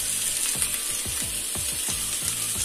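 Onion, tomato and sweet pepper fry in a pan with a steady, close sizzle and crackle, while a utensil stirring through the vegetables adds soft scraping.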